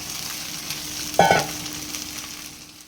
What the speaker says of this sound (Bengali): চালটা একটুখানি ভেজে নেব, বেশি ভাজবো না